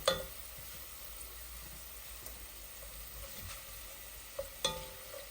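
Garlic frying in a pan, a faint steady sizzle with occasional soft stirring scrapes and a couple of light clinks near the end, no talking.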